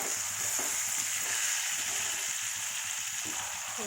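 A drumstick, egg and dry-fish curry cooks in a pan, producing a constant loud frying hiss with soft irregular bubbling and stirring underneath, no speech.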